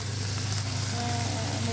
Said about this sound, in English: Once you hear that it's sizzling a little bit, it's like dry, so it's kind of ready to add your soy into it.